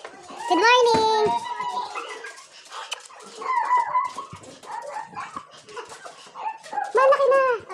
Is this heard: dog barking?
yes